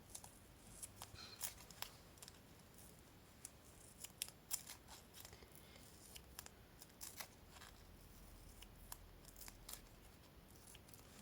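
Scissors snip through double-sided tape in a run of quick, close cuts, sharp clicks scattered at an uneven pace against a faint background hiss.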